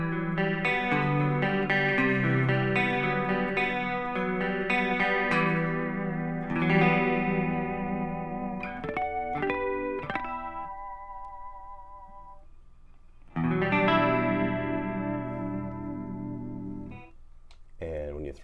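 Electric guitar run through a Line 6 Helix pitch shifter set to a high mix and detune, ringing out in shimmering, chorused, distorted chords and phrases over about eighteen seconds, with a pause before a final loud strum.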